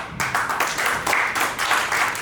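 Audience applause at a company's fifth anniversary celebration, a steady wash of many hands clapping together, fairly close and sustained without pause.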